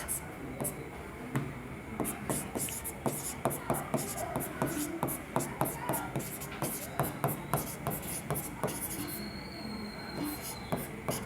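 Chalk or marker writing on a classroom board during a Hindi-language maths lesson makes repeated short tapping strokes and scratches in a steady rhythm, fairly quiet and close.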